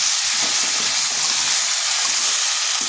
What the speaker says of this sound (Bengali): 1 চামচ জিরে গুঁড়ো, 1 চামচ ধনে গুঁড়ো, লঙ্কার গুঁড়ো আর সামান্য হলুদ গুঁড়ো। এরপর এগুলো আমি ভালোভাবে কষে নিচ্ছি।